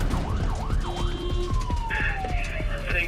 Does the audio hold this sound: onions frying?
no